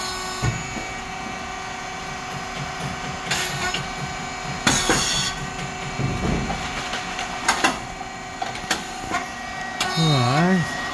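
A thin crispy rice cake machine, model SYP4509, hums with a steady mechanical drone marked by intermittent clanks and pneumatic hisses as it stops and restarts, while someone talks over it.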